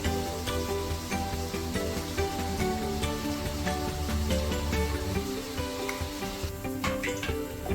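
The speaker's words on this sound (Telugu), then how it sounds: "ఈ బూందీ చక్రం పెట్టుకుని ఇలా వేసేసుకోవాలి మొత్తం పిండి అంతా మనం ఈ విధంగా వేసేసి బూందీ వేయించుకొని రెడీ పెట్టుకోవాలి" Boondi batter for a jaggery sweet is dropped through a perforated ladle into hot oil, producing a dense, continuous close sizzle and bubbling with light metallic clinks of the ladle against the pan.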